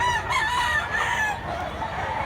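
A rooster crows in a long, wavering call with clear harmonic tones. It is close and loud over a steady background hiss. The bird is a lean, long-bodied, balanced fighting cock of about 2.1 kg, seen at a derby in Mantalongon, Cebu.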